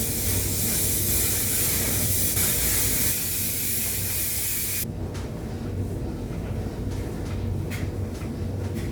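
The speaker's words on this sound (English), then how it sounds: "This hairspray is the best hairspray in the world for curly hair." Hairspray for curly hair jets from an aerosol can in a loud, continuous close hiss, which thins abruptly about halfway through into a softer broad spray with faint flutters and no voices.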